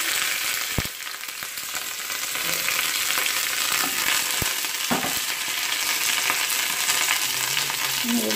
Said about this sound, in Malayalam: എണ്ണ ചൂടായിട്ടുണ്ട്, ഞാൻ അതിലേക്ക് കടുക് ഇടുകയാണ്.